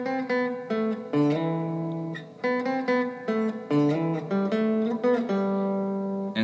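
An electric guitar plays the second bridge of a song, sustained melodic notes and bends in short phrases, clear and alone.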